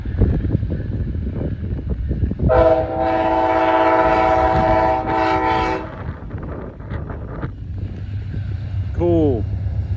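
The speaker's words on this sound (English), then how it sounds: "Amtrak." An Amtrak train rumbles past at close range with a loud continuous roar and a long, blaring multi-tone horn blast in the middle. A brief voice cuts in near the end.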